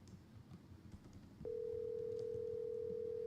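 A phone call rings through: a steady ringback tone begins partway in and holds unbroken to the end over a quiet background hum.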